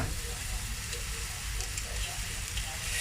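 Beef steak sears in a home frying pan, giving a loud, steady, dense hiss of sizzling fat that holds unbroken throughout.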